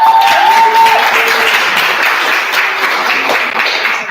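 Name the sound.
audience applause at conference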